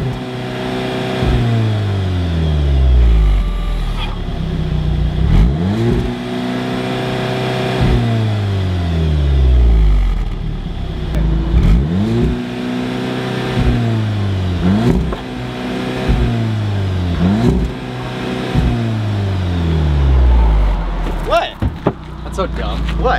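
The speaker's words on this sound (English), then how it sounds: "Let me give you a little sound clip of the exhaust." Stock car exhaust revving repeatedly, each rev rising sharply then falling away in a steady cycle of about five blips, loud and close with a deep low-end boom.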